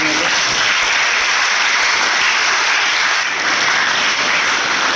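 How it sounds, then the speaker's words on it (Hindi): Audience applause welcoming guests onto the stage at the opening of a sports nursery in a market town in India: a dense, steady burst of many hands clapping, close and loud throughout with no break. "उन सभी का एक बार जोरदार तालियों से स्वागत करें यहाँ पर"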